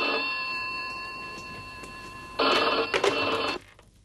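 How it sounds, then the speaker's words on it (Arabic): An electronic telephone ringer sounds with steady tonal chimes at first, then a louder burst of ringing that stops abruptly, heard indoors with no talking. "رد على التليفون."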